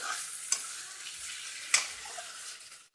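Okra curry with tomatoes cooking in a pan, a steady hissing sizzle with two distinct scraping stir strokes against the pan, close and moderately quiet, no talk.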